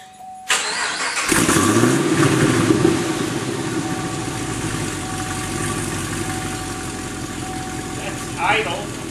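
A 2010 Chevrolet Camaro SS with a V8 and an Edelbrock X-pipe cranks over and fires up in a garage, flaring loudly before settling into a steady, rumbling idle close by.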